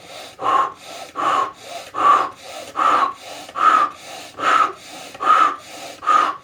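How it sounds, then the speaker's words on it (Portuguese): Eight deep, forceful breaths of Tummo meditation come in a steady rhythm, each a loud rushing inhale followed by a shorter exhale, close to the microphone with no talking. "uma meditação que trabalha a respiração profunda. Então a gente faz a respiração assim, ó."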